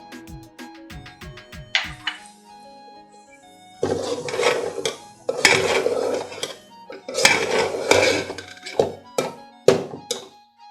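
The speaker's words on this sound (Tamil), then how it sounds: "இடையில நம்ம இதையும் நல்லா வந்து கிண்டி விட்டுட்டே இருக்கணும்." Kalkandu pongal, a rock-sugar rice dish, stirred in a pot, with a few sharp knocks and clinks of a ladle against metal, then bursts of louder scraping and clattering close up.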